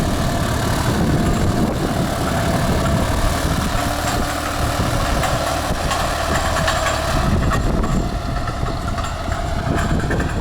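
A tractor engine runs steadily in second gear while tilling an oat field, a continuous loud, even drone with no speech over it.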